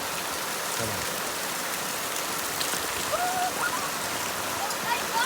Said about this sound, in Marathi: आजचा पहिला पाऊस असणार आहे.